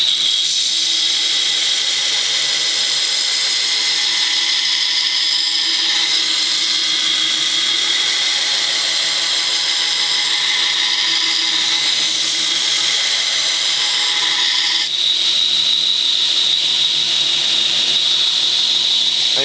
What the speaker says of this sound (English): This grinder's new to me, but I've used all kinds of different belts before.